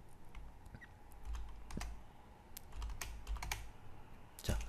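A computer keyboard is typed on softly at close range, giving a quiet patter of light key clicks and one firmer press near the end, like hitting enter. There is no talking.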